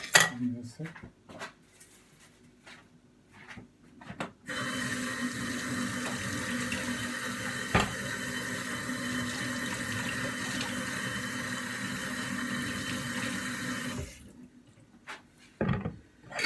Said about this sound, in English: Okay, I'm gonna wash these zucchinis now.